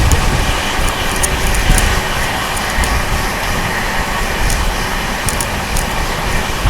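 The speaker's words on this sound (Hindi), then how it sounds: "सामने से आ रही है हज़रत निज़ामुद्दीन पुणे AC दुरंतो एक्सप्रेस।" The Hazrat Nizamuddin–Pune AC Duronto Express rushes past as a loud, continuous rumble and roar of wheels and carriages, with faint rattles and clicks over a heavy low drone and no voices.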